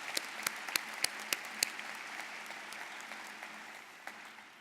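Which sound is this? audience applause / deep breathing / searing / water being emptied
audience applause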